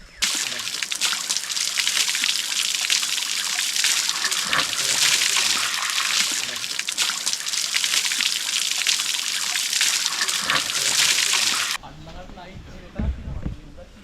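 Cold mountain stream water in the Knuckles range rushes and splashes loudly and close during bathing, a continuous broad wash of water that drops away abruptly near the end to quieter trickling and a voice.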